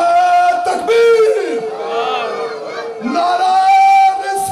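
An audience at a religious milad gathering shouts a loud, unified response to a leader's slogan chant, with the leader's sustained call and the crowd's roaring reply alternating close by.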